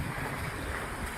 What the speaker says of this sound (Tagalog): Ampas ng alon ang maririnig mo.